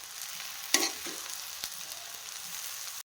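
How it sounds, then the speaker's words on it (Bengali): Noodles with spices and homegrown tomato frying in a pan give a steady, close sizzle, broken by a couple of brief stirring scrapes, until the sound cuts off abruptly. "তখন নেড়ে চেড়ে নিব।"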